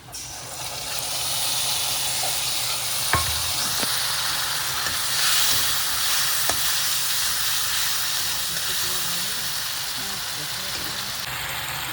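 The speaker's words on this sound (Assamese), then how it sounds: "এয়া হালধিও দি দিছোঁ মই তেলত" Turmeric and ground spices frying in hot oil in a home kitchen, a continuous close hiss and sizzle that holds steady throughout, broken by a few sharp pops and clicks.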